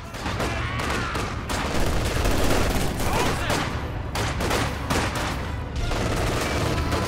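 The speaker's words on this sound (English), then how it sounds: "Enemy fire! We have more conscripts at our disposal. Infantry shooting at us!" Infantry rifle and machine-gun fire in the World War II strategy game Company of Heroes 2 rattles in loud, dense bursts, with brief gaps and distant booms under sporadic battle shouts.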